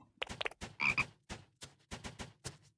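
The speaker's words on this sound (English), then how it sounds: "I just heard a frog." A frog in Everafter Falls croaks in a quick series of short, close, clear pulses with a few brief gaps, heard alone over a quiet background.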